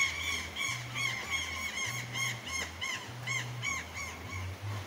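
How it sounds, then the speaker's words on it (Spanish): Brown jays, known locally as papanes, squawk and squeal repeatedly in a Hidalgo village, giving a rhythmic series of shrill calls over a steady low hum. "Se escucha el canto de las aves."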